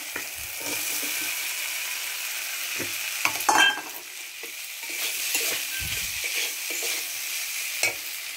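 Cauliflower, potato, mushroom and small shrimp sizzle loudly in a spiced masala in the pan, with steady frying hiss and occasional scraping stirs.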